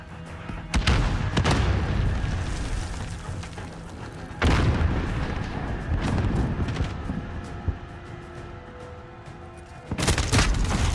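Grenade blasts from a Call of Duty match, several heavy booms landing at irregular intervals over constant battlefield gunfire and rumble, each burst loud and broad.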